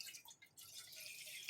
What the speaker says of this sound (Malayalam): അതിലേക്ക് 2 ഗ്ലാസ് വെള്ളമാണ് ഒഴിക്കുന്നത്.